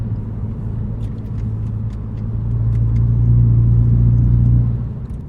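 A Mini Cooper S on the move gives a steady low engine and exhaust rumble with road noise, swelling louder in the middle before easing off near the end, with no voices.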